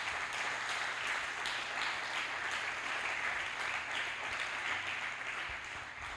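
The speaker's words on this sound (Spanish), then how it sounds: "¿Le puede dar un aplauso al Señor por eso?" Church congregation applauding during a Spanish-language sermon, steady dense clapping that holds at an even level throughout, heard from a moderate distance.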